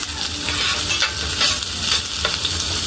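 Garlic and onion sizzle steadily in a hot pan while a utensil stirs through them, a continuous close frying hiss with scraping strokes and no voices.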